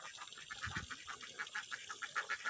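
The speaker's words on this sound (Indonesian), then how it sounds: "di tengah persawahannya saya menemukan peternakan bebek tuh" Ducks at a duck farm set among rice fields, a faint chorus of repeated quacks in a steady rhythm over soft outdoor ambience, with no talking.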